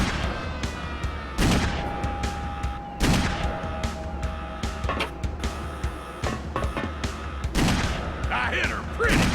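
Shots ring out in the video game Perfect Dark Zero, loud repeated bursts and booms over continuous game ambience, with a voice speaking at times.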